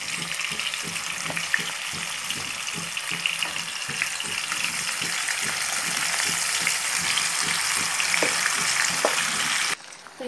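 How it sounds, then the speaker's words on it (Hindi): Marinated chicken fries in spiced oil in a pan for biryani, a constant crackling sizzle punctuated by regular scraping stirs, growing slightly louder toward the end. "अब हम इसमें हमारा मैरिनेटेड चिकन डाल देंगे, सारा मसाला हमें इसमें यहाँ पर डाल देना है।"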